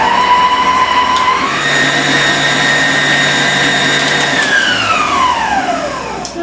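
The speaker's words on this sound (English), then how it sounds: "Beat cream cheese and 1/4 cup milk into a large bowl until well blended." An electric mixer beats cream cheese and milk in a large bowl with a loud, close motor whine that rises in pitch, holds steady, then spins down near the end.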